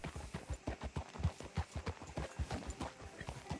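Horse hooves clip-clop at a steady walking rhythm on a town street in a video game, each footfall distinct and fairly soft, repeating evenly throughout.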